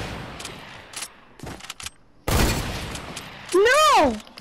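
Sniper fire in Fortnite: several sharp gunshot bursts in close succession, loud and near, among rapid game effects and a rising-falling tonal sound, with excited players talking over the action.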